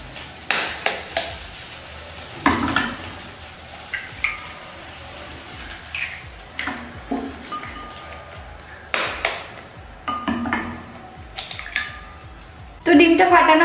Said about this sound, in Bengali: এবার আমি ডিমগুলো ফাটিয়ে নিই, ডিমের অমলেট হবে কড়াই গরম হতে হতে।